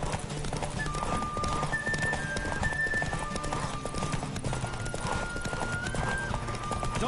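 Steady galloping hoofbeats with a horse whinnying, loud and continuous, under a busy mix of game sounds from The Witcher 3: Wild Hunt.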